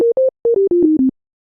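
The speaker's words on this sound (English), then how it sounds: "Right, just some sine waves, nothing interesting." Pure synthesizer sine tones from two analog generators, sounding as a series of short steady beeps at slightly shifting pitches, each separated by brief gaps, clean and alone with no talk.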